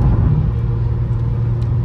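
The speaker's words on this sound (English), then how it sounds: "It's just a car sound, right? Not a honking." Steady low road rumble from inside an Infiniti Q50 driving through a Kansas City parade crowd, a constant engine and tire drone with no talk.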